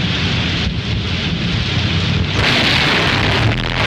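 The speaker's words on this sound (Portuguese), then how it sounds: "Tá chovendo." Steady rain pours down with low rumbling thunder rolling underneath, growing heavier and more intense partway through, with no voices present.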